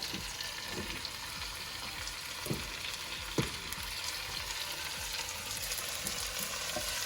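Potatoes fry in a pot with celery for a Guinness stew, a steady broadband sizzle running throughout with a few sharp stirring clacks and scrapes, close and fairly loud.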